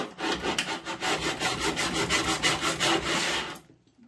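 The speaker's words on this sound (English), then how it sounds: "what I'm doing is scuffing that up really good" A Kutzall rasp is drawn by hand over a painted surface in steady rhythmic rasping strokes, close and continuous for several seconds before stopping abruptly.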